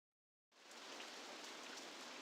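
Rain in RollerCoaster Tycoon 3 starts abruptly after a brief silence, then holds as a steady, even hiss of falling rain and drops striking surfaces, heard alone at low volume.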